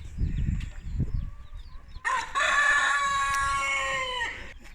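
Chickens in a coop in the morning, with soft clucking and low stirring at first, then a rooster lets out one long, loud crow close by that rings on for a couple of seconds before fading.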